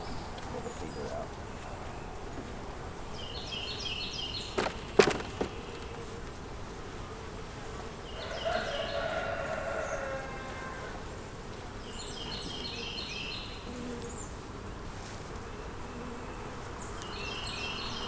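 Honey bees buzz in a steady, close hum around a hive being fed by a beekeeper, with brief knocks and rustles partway through.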